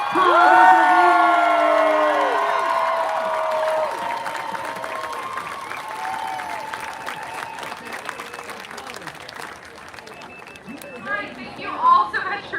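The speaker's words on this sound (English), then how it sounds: "Y'all give a round of applause." A rally crowd at a Roe v. Wade event applauds and cheers loudly, with whoops over dense clapping that slowly fades. A few voices call out near the end.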